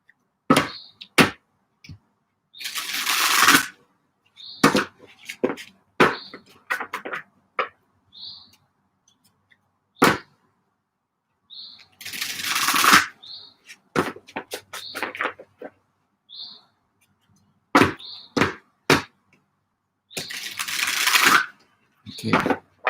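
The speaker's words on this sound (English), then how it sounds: "Shuffling 3 times," Repeated bursts of tarot card shuffling, each a few seconds long, separated by sharp taps and light clicks in a quiet room.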